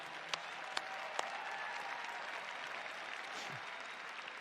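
An audience applauds steadily at a corporate conference, a dense wash of clapping from a large crowd with a few sharper claps standing out near the front, no voices over it.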